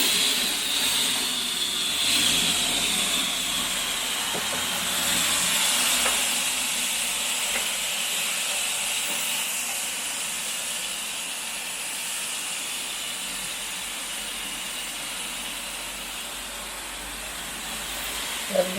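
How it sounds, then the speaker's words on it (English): Continuous hissing sizzle of pork chops on a hot grill, steady and fairly loud throughout, with faint occasional pops and clicks. "Ooh, you can hear that sizzling."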